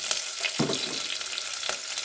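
Onions and green chillies frying in a pan for mint rice, a steady broadband sizzle with a couple of short stirring scrapes, close and moderately loud, no talking.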